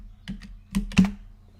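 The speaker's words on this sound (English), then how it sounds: "Let me just type in draconian." Three quick keystrokes tap on a computer keyboard, close and crisp, each a short sharp click, the last one loudest, with no voices.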